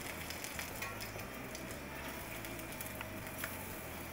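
Buttermilk pancakes with fruit in the batter frying in a skillet, a soft continuous sizzle with faint pops and patter, heard fairly close and without talk.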